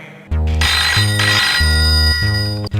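A telephone ringtone plays loud and close in repeated bursts of electronic tone, about four pulses with short gaps, and there is no talking.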